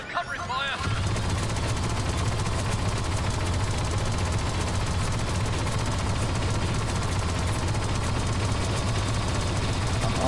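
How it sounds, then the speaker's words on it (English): Continuous rapid blaster gunfire in Star Wars Battlefront 2 lays down covering fire, a dense, loud, unbroken rattle of shots that runs steadily for about ten seconds, mixed with battle noise. "Laying down covering fire."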